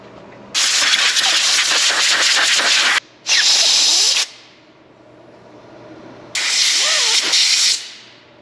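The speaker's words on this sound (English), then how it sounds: "Onto the air compressor." Compressed air blasts from an air compressor nozzle cleaning Suzuki two-stroke carburetor parts: three loud, close hissing bursts separated by short gaps, with faint low background hum between them.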